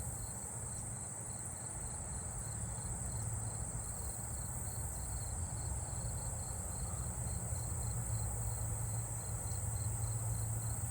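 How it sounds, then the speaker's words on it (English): Fall field crickets trill in a steady, unbroken high chorus from a neighbourhood at night, faint and distant, with a constant insect drone beneath and no voices. "I also am hearing fall field crickets too well from here."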